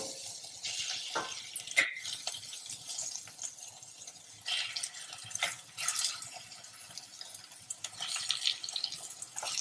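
Water splashes and trickles into a pot of partly cooked vegetables and dal, a loose run of pouring and dripping sounds with no talk over it.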